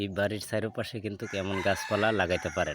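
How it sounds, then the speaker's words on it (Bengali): A rooster crows in the background while a person talks continuously up close over it. "মুরুগ ডাকতাছে"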